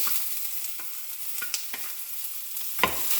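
Garlic, onion and ginger fry together in cooking oil in a pan for chicken lechon paksiw, a soft, steady sizzle broken by a few light scrapes and one louder knock near the end.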